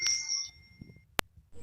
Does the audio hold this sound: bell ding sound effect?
yes